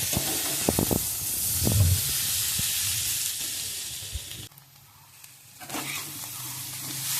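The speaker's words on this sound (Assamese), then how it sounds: "সেয়া কেইটামান দি দিছোঁ, ইয়াতে ভাজি হৈছে এতিয়া" Loud, close sizzling of chillies in hot oil with crackles and stirring, briefly dropping away before the frying hiss returns.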